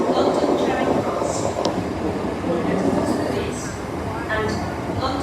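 Trains at London Bridge station, including a Southeastern service, fill the platform with a steady, loud rumble of rolling stock, with faint wheel squeals and the hiss of station noise throughout and no talking.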